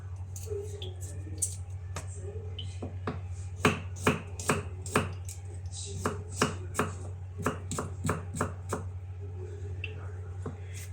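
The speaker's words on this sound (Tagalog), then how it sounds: "Tsaka itong garlic guys. I-mince din natin." Garlic minced with a knife on a cutting board while steamed fish is prepared, a close, steady series of sharp chopping taps over a low background hum.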